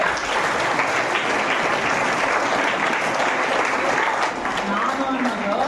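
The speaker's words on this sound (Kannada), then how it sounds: "ವೆರಿ ಗುಡ್, ಚಪ್ಪಾಳೆ." Students in a school classroom break into sustained, even applause, a thick near wash of clapping hands that runs unbroken, with a voice briefly audible toward the end.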